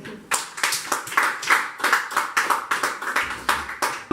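A church congregation claps in a steady, regular rhythm to acclaim the Lord during a Sunday service, a dozen or so even beats at close range with no talk over them.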